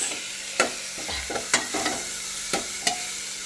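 Onion and tomato sautéing in a pan for Solapuri masala rice, a steady soft sizzle broken by several sharp spoon scrapes and stirring knocks, close and alone.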